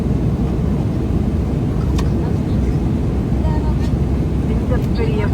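Steady broadband roar of a large airliner cabin in flight from Zurich to Dubai about an hour before landing, a constant loud low rumble with faint brief clicks on top.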